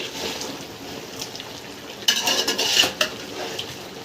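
Chicken simmering in a cooking pot, heard as close, repeated clinks and scrapes of a utensil against the metal with a soft wet hiss underneath and a louder run of clatter midway.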